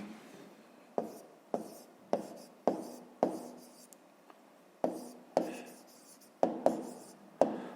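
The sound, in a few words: pen writing on paper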